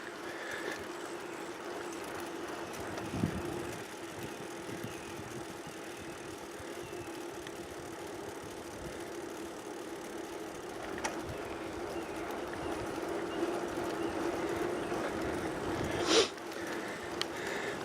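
Distant road traffic on Maytown Osteen Road beyond a line of trees along a Florida trail, a faint continuous engine rumble and hum with a couple of brief louder clanks, no voices.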